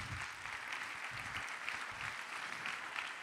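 Soft, fairly distant applause from an audience at an events-industry night in Lyon, brief steady clapping cheering a camera operator, with no voice over it.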